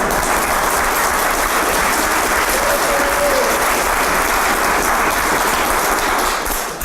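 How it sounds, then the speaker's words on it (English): An audience applauds at a ribbon cutting ceremony for a Bridgestone Auto Center at East CLC, giving the auto tech teacher a round of applause. The clapping is loud and steady throughout, then fades slightly at the very end. "give Mr. Groom a round of applause"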